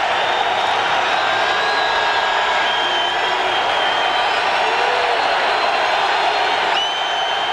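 Stadium crowd at a 1994 Raiders at Chiefs football game roars in a sustained, dense wash of cheering that holds steady throughout, heard from within the stands.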